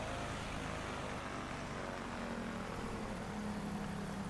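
Cessna 337 twin-engine push-pull aircraft flying over Thailand in Microsoft Flight Simulator: a steady, even propeller engine drone that holds throughout at moderate volume.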